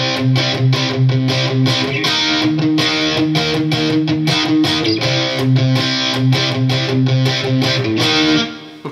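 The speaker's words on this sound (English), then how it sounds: "Palm muting by putting the fleshy part of my hand on the bridge here" Up-tempo pop punk electric guitar, palm-muted and distorted, chugs in a steady driving rhythm of tight, chunky repeated strums. It plays loud and alone throughout, then cuts off at the end.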